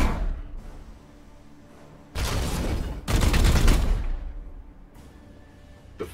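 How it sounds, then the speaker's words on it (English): Gunfire in the video game Warhammer 40k: Chaos Gate - Daemonhunters, with two loud, dense back-to-back bursts of shots after a quiet start and a short, faint burst near the end. "Firing on target."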